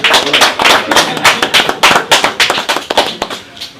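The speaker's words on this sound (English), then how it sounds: "A round of applause" A small audience claps for a delegation at a gathering: loud, close, distinct individual claps in an uneven, fairly quick patter that loosens and tapers off toward the end.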